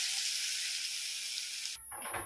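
Broken wheat (dalia) sizzles steadily in a hot pan, a close bright hiss that runs evenly, then stops abruptly near the end, giving way to a few soft stirring scrapes.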